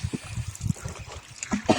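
Water of the Sapta Koshi river flowing, a quiet, irregular trickling and splashing that gurgles unevenly throughout without any talking.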